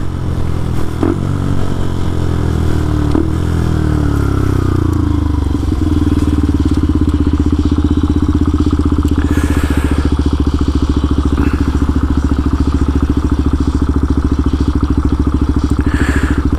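A Benelli TNT 135 motorcycle cruises on a highway with speed limits around 45 to 50, its small engine droning steadily through shifts under loud, constant wind rush close to the rider.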